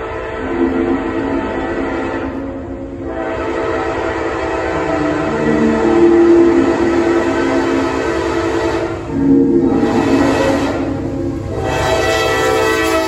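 A heavy Norfolk Southern intermodal freight train rumbles steadily past through Spartanburg, with a deep continuous roar and sustained horn-like tones rising and falling over about thirteen seconds.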